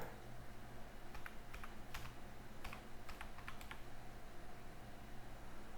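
Quiet bursts of typing on a computer keyboard, a few scattered keystroke clusters with brief pauses between them, close and faint.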